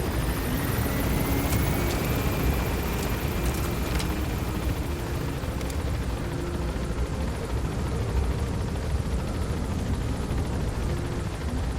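Aircraft climbing and gaining altitude, a steady broad engine roar with a faint rising whine, constant and fairly distant for the whole stretch with no talk.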